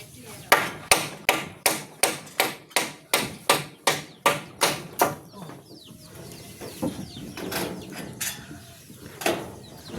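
Hammering on a house building site: about a dozen sharp, evenly spaced hammer blows ring out close by, then give way to a few scattered strikes amid quieter background noise.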